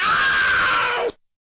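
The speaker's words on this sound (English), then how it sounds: "Whenever you see the word scream on the screen, you must scream." A single loud, sustained scream lasts about a second at full strength, then cuts off abruptly into silence.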